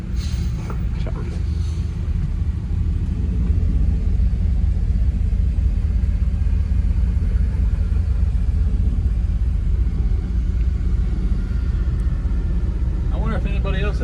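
A Hemi V8 swapped into a 1998 Ram 1500 van rumbles at a low, steady idle or cruise throughout, heavy and continuous with faint cabin noise layered on top.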